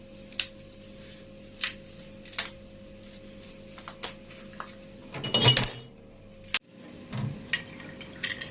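Ice clinks against glass in scattered single taps, followed by a brief pouring, sloshing rattle, then a few more light clinks in a quiet room.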